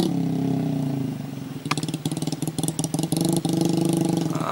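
Trail motorcycle built to carry sacks, working as a rice-field taxi in Soppeng, South Sulawesi, runs steadily up close, with a pulsing idle that builds into choppy revving and throttle blips.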